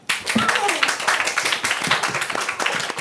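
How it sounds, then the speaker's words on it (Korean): An audience at a birthday fan party claps, with the applause running throughout under lively voices and chatter. "박수 주세요."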